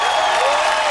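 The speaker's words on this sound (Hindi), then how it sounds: "वैसे आइए, तालियां पीटो।" Audience clapping at a kavi sammelan poetry event, a brief burst of steady, fairly loud applause filling about a second, with a tonal sound running beneath it.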